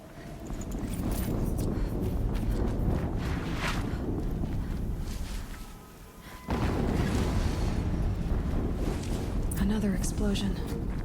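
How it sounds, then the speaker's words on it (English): Explosions rumble in Horizon Zero Dawn gameplay as a dense, continuous roar that dips briefly, then surges back just as loud. "Another explosion."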